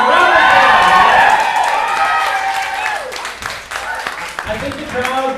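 Audience at a poetry slam open mic cheers and applauds loudly, a dense wash of clapping with shouts and whoops that slowly thins over a few seconds, with scattered voices carrying on underneath.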